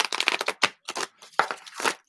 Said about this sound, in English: 1 more shuffle. Just shuffling these babies up.